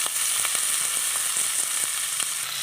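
Golden-brown onion with cumin, salt and ginger garlic paste frying in oil: a loud, continuous sizzle close by, broken by light periodic scrapes and taps of a spoon against the pan, with no voices.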